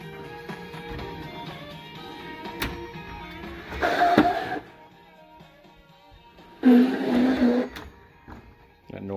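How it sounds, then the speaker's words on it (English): Plastic wrapping on ratchet sets rattles inside a ball-bearing drawer of a Proworks tool chest, making two short bursts of crinkly rustling clatter separated by a few quieter seconds of low background noise. "That noise is the plastic on the ratchet sets."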